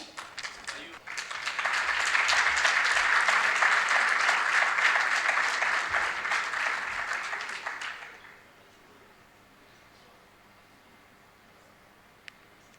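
Audience applause at a closing ceremony of a youth forum in Benin, a dense sustained wash of many hands clapping for about eight seconds before cutting off to near silence, with a faint click near the end.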